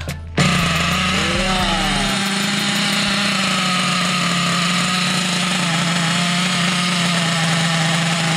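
Small nitro engine in a remote-control car, primed with a glow plug heater, fires up after a brief start and screams at a loud, constant high-revving buzz close by.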